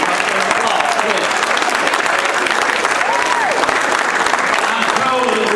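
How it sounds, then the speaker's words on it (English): A standing crowd at a high school class reunion applauds its veteran classmates, loud, continuous, dense clapping filling the room, with scattered voices and cheers rising through it. "All right, give them an applause, please"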